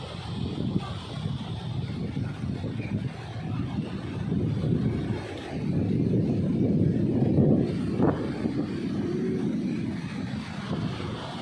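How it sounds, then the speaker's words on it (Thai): Rough, choppy waves on wide open water under a constant wind roar, with a steady rushing wash that swells louder midway and stays dense without a break. "คลื่นแรงมากเลยค่ะ"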